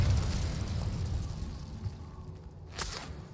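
An Incendio fire spell cast in Hogwarts Legacy, a loud fiery whooshing burst at close range that rumbles and fades over a few seconds, ending with a short sharp crack.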